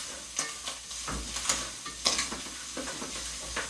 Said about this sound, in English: tripe is a very fatty protein. So we're just going to give this a good stir.